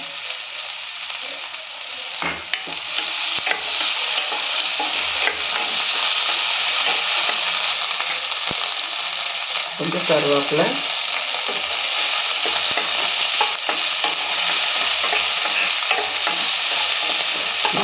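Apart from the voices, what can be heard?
onions sautéing and being stirred in a pan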